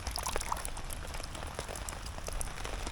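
During woodland rain, water streams off a tarp into a filling container, making a steady close pouring hiss over the patter of raindrops that keeps on evenly with no pause.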